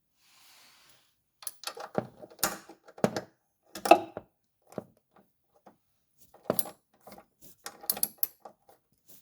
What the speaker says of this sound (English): and use the wrench